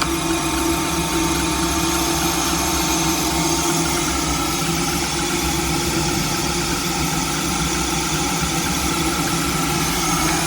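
Domestic gas boiler firing up after a heating demand, a steady low mechanical hum and fan-like drone holding even and constant throughout with no speech over it.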